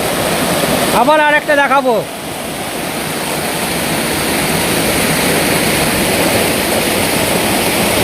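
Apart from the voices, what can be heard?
Dhangikusum waterfall flowing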